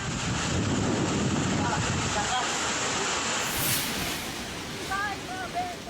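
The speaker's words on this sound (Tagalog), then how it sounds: "para bang may buhawi sa sobrang lakas ng hangin na sinabayan pa ng malakas na ulan" A loud, roaring rush of typhoon wind and driving rain fills the air in the Philippines, easing slightly partway through, with a brief voice near the end.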